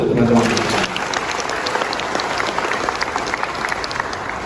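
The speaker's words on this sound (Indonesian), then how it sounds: "tepuk tangan untuk teman-teman" Political party members gathered for a speech applaud steadily, a broad wash of clapping that starts strong and settles into a slightly softer, continuous level, with a brief voice at the very start.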